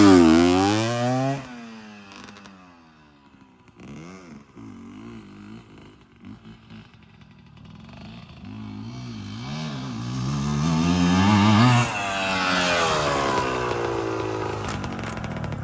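A dirt motorcycle comes down from a jump and the rider holds a slow wheelie; the engine note rises and falls in revving sweeps, dipping to a quieter stretch midway before a louder, sustained throttle near the end.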